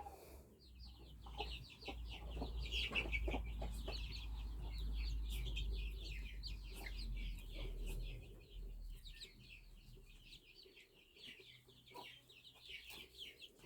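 A hen clucks repeatedly as she hears her chicks amid a busy chorus of their high peeps, with low rumbling noise underneath at close range.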